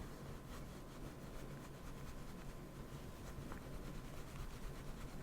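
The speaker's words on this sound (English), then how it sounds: "let me just rub this out really quick" Soft, continuous rubbing at a stubborn stain on fabric, a close, quiet scrubbing hiss with a faint back-and-forth rhythm and no voice over it.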